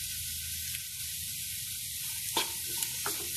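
Onions with salt stirred in a pan for a Kerala beef chatti pathiri filling, giving a steady soft sizzle with a few sharper scraping spatula strokes near the end.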